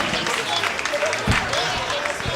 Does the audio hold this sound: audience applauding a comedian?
yes